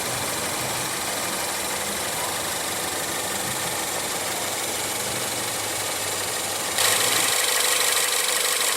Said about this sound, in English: under the hood here, we have the optional 2-liter inline turbo 4-cylinder